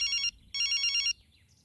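A telephone rings in a Telugu-dubbed film scene: two short, bright electronic trills separated by a brief pause, fairly clear against a quiet background.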